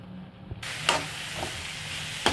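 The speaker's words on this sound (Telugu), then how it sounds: "కట్ చేసుకున్న టమాటా ముక్కలు అయితే వేసేసుకోవాలి" Chopped tomato pieces dropped into hot oil for a dried fish tamarind curry, a sizzle that suddenly swells and holds steady, with a few sharp utensil clicks on top and no speech.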